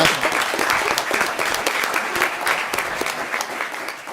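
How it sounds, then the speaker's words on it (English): Audience at a school board meeting claps steadily throughout, a dense continuous round of applause from a roomful of people, with no talking over it. "if you want to clap for all of them, that's fine"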